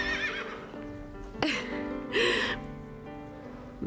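A horse whinnies loudly in a high, shaky call, followed shortly by a second burst, with faint background noise between.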